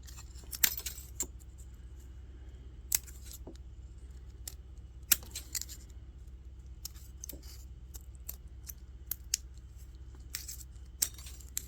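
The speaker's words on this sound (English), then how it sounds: "you're going to take some scissors and you're going to trim up around your little catering pan" Scissors snip around the rim of a miniature aluminum steam table pan for a dollhouse, giving sharp, scattered clicks and crinkles over a low steady hum, close by.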